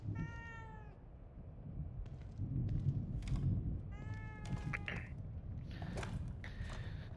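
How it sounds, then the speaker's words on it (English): A cat in the video game The Evil Within 2 meows several times, clear mid-pitched calls spaced over a low ambient hum, no talking. "if you thought you heard a cat, you heard correctly. There is a cat in here."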